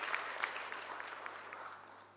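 Audience applause at a restaurant company's stock listing ceremony: a steady wash of clapping from a crowd, moderately near, slowly tapering off toward the end, with no voices over it.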